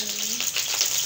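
Garlic frying in a pan for a Malaysian chicken curry gives a brief, steady close-up sizzle with a bright hiss.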